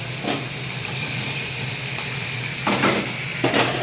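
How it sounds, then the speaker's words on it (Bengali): Lote fish (Bombay duck) fry in a pan with a continuous hissing sizzle, and a few louder bursts of spatter near the end. "এদিকে আমি মাছটা বসালাম ভাজতে"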